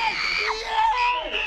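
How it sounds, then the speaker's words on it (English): A person screams in a sustained, shrill, wavering cry during a heated domestic argument over watching a TV show in a comedy series episode, loud and close throughout. "I'll also scream."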